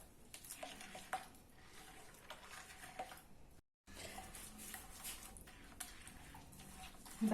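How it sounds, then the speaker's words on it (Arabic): Caramel-flavoured ghriba bahla cookie dough being mixed in a bowl, with steady soft scraping and stirring clatter throughout and a brief gap partway through. "غادي نتابع الخلط. حتى يتمزاج الكل."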